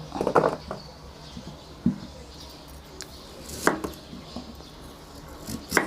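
A knife chops on a board in scattered, uneven strokes, close by, with faint background rustle between the cuts.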